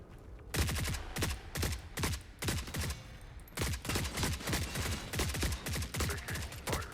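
Gunfire in the shooter The Forever Winter: repeated sharp bursts crack out at an irregular pace, loud and close, almost continuous for several seconds.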